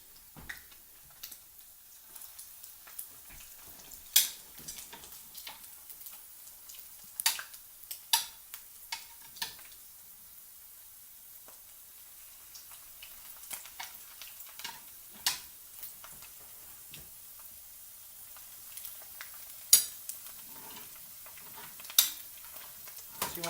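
Lumpias, Filipino egg rolls, frying in a pan of hot oil give a quiet, irregular crackle with scattered sharp pops and ticks over a soft sizzle.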